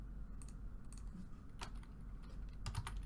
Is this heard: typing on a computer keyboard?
yes